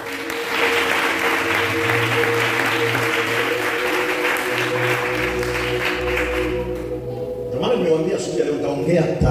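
Church congregation claps in sustained applause during a sermon, a dense steady patter filling the hall at moderate loudness, with a low hum underneath and a voice rising near the end.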